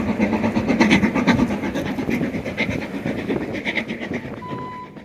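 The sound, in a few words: Harry Potter train crossing the Glenfinnan Viaduct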